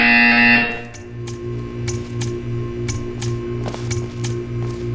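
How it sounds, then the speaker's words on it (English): A loud buzzer sounds briefly in the Portal 2 video game, then cuts to a pulsing electronic hum with rhythmic mechanical ticks repeating steadily underneath. "You will hear a buzzer"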